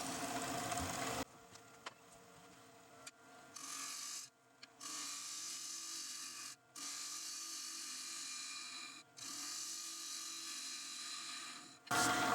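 Wood lathe spinning a walnut box while a gouge makes gentle cuts. The cuts come as bursts of hissing, scraping rasp separated by short pauses, set over the motor's hum and heard close up without talk.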